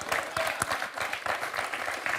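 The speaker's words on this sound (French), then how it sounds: "On va applaudir Fabien qui vient de nous débloquer son compteur." A game show studio audience applauds a contestant, a brief burst of dense, lively clapping with no voices over it.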